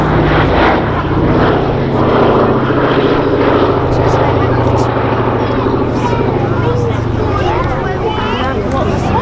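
A Boeing B-17 bomber flies at the Duxford Air Festival 2019, a loud continuous engine drone filling the air while a crowd murmurs and a voice talks over it.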